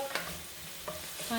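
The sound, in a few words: onions frying in a pan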